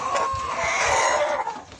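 Chickens in a poultry coop cluck and squawk nearby, a wavering high call rising over the flock, with softer clucks and shuffling beneath it.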